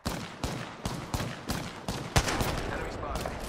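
Bursts of gunfire in the video game Apex Legends, sharp repeated shots at roughly half-second intervals, loud and close, growing into denser overlapping fire toward the end.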